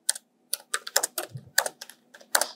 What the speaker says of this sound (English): So let's say we type a text here.